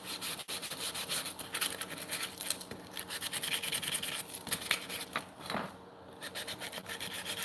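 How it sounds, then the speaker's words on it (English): Wood being hand-sanded in a workshop: steady rhythmic rubbing and rasping strokes, close and fairly quiet, continuing without talk. "I'm just going to be doing a little bit of sanding"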